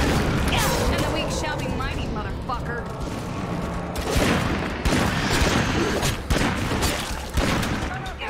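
Gunfire and booming explosions ring out in a shooter video game, coming as scattered loud bursts and heavy thuds, with a person talking over the action.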